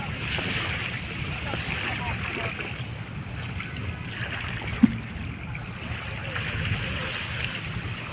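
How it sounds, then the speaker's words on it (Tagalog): Waves wash continuously against the Manila Bay shore at Dolomite Beach beside Roxas Boulevard, a soft, steady surf hiss with wind buffeting the microphone and a faint single knock midway, no voices over it. "Sarap pakinggan yung hampas ng ano, alon ng tubig."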